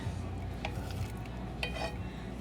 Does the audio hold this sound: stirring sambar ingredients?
yes